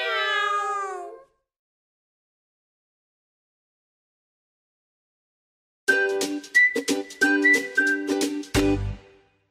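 A cat meow in a Hungarian children's song sounds once, loud and close, at the start. After a long silence, a string of bright tonal, melodic notes follows.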